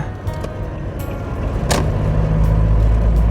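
A car engine droning steadily as it climbs a mountain road in Thailand, a low rumbling hum that swells gradually louder, with a brief whoosh of passing air partway through.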